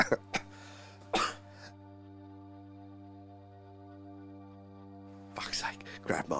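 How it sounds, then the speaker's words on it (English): Several harsh coughs close to the microphone, a cluster at the start and more at the end, separated by a quiet steady hum. "that actually made me cough my guts up there"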